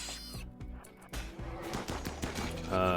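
Slug turrets fire in RimWorld, a rapid burst of sharp, clustered gunshots in quick irregular succession, fairly faint, with a denser electronic tone at the end.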